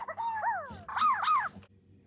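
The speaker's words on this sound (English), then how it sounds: "There, it just has this deep dog bark that looks far away in the distance." A toy dog gives a few short, deep bark-like yelps, an electronic canine voice that sounds distant, two quick bursts followed by silence.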